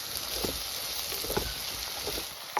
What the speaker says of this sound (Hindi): ग्रीन चिली को भी हम फ्राई कर लेंगे प्याज के साथ